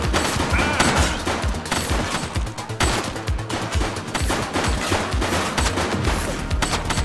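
Gunfire in a police video game, loud and sustained rapid shots in dense bursts throughout, with brief pauses between volleys and no talking.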